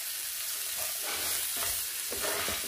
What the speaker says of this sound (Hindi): 1 मिनट तक हम इसे सौते करेंगे।